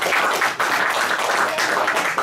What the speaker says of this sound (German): Drum einmal einen kurzen Applaus für den Alexander.